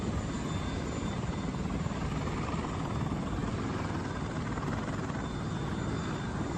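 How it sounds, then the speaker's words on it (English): Israeli air evacuation helicopters arrive to pick up wounded troops, a steady loud rotor and engine drone that holds constant throughout with no voices. "You see the helicopters coming in?"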